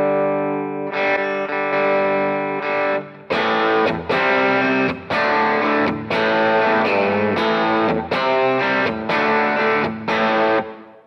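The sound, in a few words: electric guitar bridge pickup with high gain distortion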